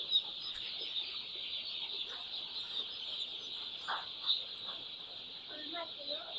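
Newly arrived chicks being let into a poultry brooder on a farm, their soft high chirping and peeping running continuously throughout, with faint clucks and brief background voices now and then.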